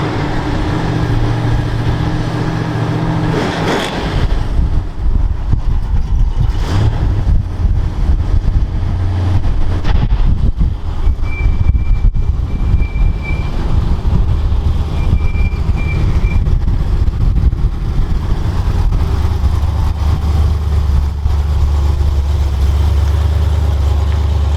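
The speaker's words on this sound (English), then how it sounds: "Just now cruising to the show, having a good bit of fun driving it." A roof-chopped Ford Consul V8 hot rod cruises along the road, its engine giving a continuous low rumble close up, with small shifts in tone as it drives, and no talking.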